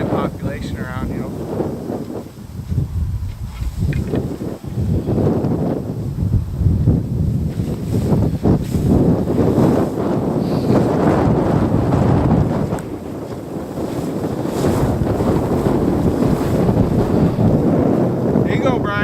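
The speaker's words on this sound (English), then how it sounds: "Oh, this wind." Strong outdoor wind buffets the microphone in heavy, surging gusts that roar loudly and almost without pause.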